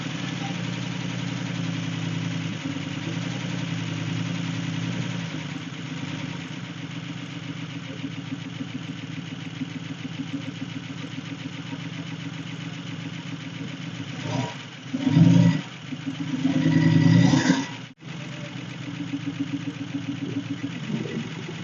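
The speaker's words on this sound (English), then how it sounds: "Much better. A lot of lifter clatter." A 1969 Chrysler engine, abandoned for 44 years, idles steadily with a rapid mechanical clatter from the lifters. A few louder surges from throttle blips interrupt the idle near the end.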